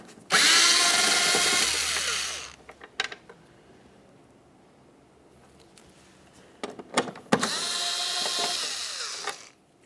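Power tool such as a cordless drill or driver backing out two 8mm bolts from a tail lamp on a Ford Flex, two loud sustained whirring runs separated by clicks and handling sounds, close by.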